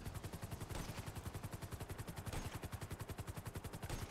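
Rapid repeated gunfire in the GTA video game during a hangar mission, a fast steady rhythm of sharp shots running throughout, fairly faint and without talk.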